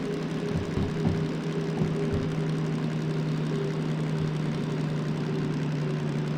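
A DM3-1200T locomotive engine runs at full throttle, pulling a train out of a harbor and steel mill in the Derail Valley video game. It gives a steady, close, low droning hum with an unbroken tone throughout.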